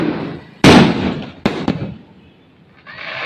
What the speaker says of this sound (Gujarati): અત્યારે ફટાકડા કેવા ફૂટે છે આ બાજુ બહુ ફૂટે છે